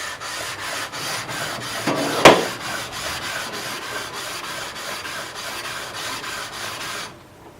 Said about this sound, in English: you'd still need to finish this off with the sanding block